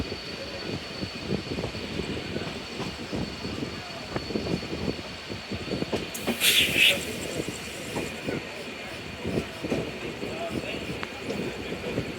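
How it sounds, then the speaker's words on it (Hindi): A train pulls out of Lanka railway station, a steady rattling rumble of wheels on track running throughout, with a brief high hiss or squeal partway through. "लो, हमारी ट्रेन खुल गई अभी यहाँ से लंका से।"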